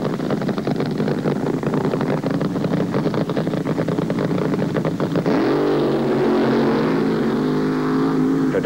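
A powerful drag racing car engine roars loudly, rumbling steadily before revving up into a higher, sustained scream partway through.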